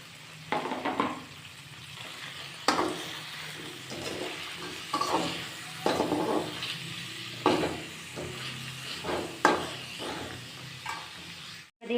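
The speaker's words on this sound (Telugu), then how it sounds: "బంగాళదుంప, క్యారెట్ ముక్కలు వేసి వేయించుకోవాలి" Potato and carrot pieces fry in a pan with masala paste, a low continuous sizzle punctuated by periodic scraping stirs and light knocks every second or two, close and fairly soft.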